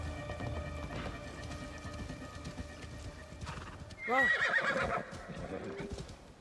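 A horse in Assassin's Creed Shadows neighs loudly in a falling whinny midway through, after steady clip-clop of hooves under light rain on a wintry forest path.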